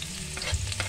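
Garlic sautés in hot oil in a pan, giving a soft, quiet sizzle with a few brief stirring scrapes over about a second.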